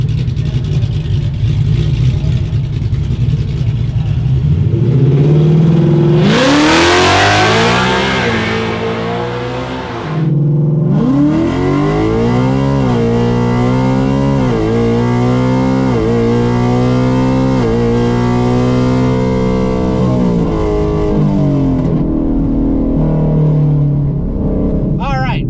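A 2024 Silver Bullet drag race car makes a hot lap run at Mod Nationals, its engine roaring loud and close as it revs hard through rising gear pulls, with a brief drop before climbing again and settling into a steady high drone.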